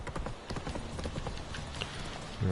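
Horse hooves clip-clop in a steady rhythm in The Witcher 3, fairly quiet and close, with a brief low sound at the end.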